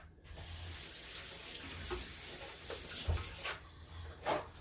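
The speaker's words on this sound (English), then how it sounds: "Let me just rinse my hands real quick." Water runs steadily from a kitchen tap while hands are rinsed beneath it, a soft, continuous hiss with small splashes and shifts in the flow.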